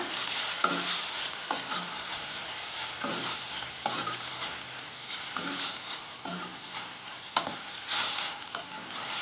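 Chopped fenugreek leaves are sautéed with onion and tomato for a fenugreek and okra dry curry. A spatula stirs them in rhythmic strokes about every second over a steady, close sizzle.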